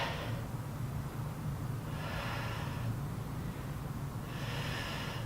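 Loud, close breaths during a strength workout, with long heavy exhales in a slow repeating rhythm of about three cycles over a steady low background hum, no talking.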